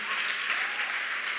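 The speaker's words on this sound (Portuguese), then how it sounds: "Dá um aplauso forte ao Senhor" Sustained applause from a church congregation at a worship service, a dense, steady wash of many hands clapping together, fairly loud and even throughout with no voices standing out.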